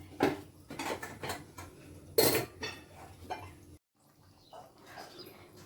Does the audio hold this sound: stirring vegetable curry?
yes